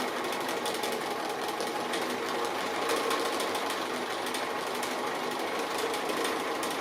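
A sewing machine runs steadily and rapidly, stitching an appliqué berry shape on fabric, its continuous mechanical whir up close and alone with no talk.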